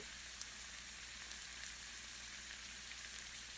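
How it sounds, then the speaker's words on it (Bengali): Fried potatoes are stirred into spice paste in a pan for a vegetarian cauliflower and potato curry, giving a steady soft sizzle that stays even and quiet throughout. "এখন আলুটা দিয়েও মশলার সাথে আবারও কষিয়ে নিচ্ছি।"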